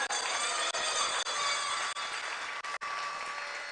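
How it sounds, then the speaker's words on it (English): Audience at a community forum giving the party executive a lusty round of applause, a dense steady wash of clapping that continues without a break. "I want you all to give all of them a lusty round of applause."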